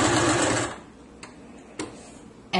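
Sewing machine stitching backward over a seam to lock it, a steady loud mechanical whir for under a second that cuts off, followed by a few sharp isolated clicks in quiet.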